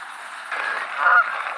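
A duck calls beside a road, giving a short, nasal, honking cry that swells and peaks near the end, close and fairly loud with no talking.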